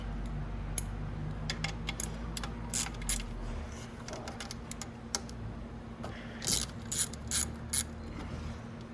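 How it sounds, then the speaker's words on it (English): A ratchet with an 8 mm socket works the cover bolts loose on a Venom X22 125cc, giving scattered bursts of quick, close mechanical clicks over a low steady hum, with the busiest run late in the clip. "to pop this cover off, you're going to need an 8 mil socket"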